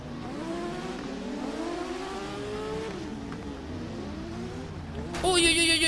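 A motorcycle with weak, sluggish acceleration revs in the TT Isle of Man racing game, its engine whine climbing and dropping through gear changes, then jumping to a sharper, higher scream near the end.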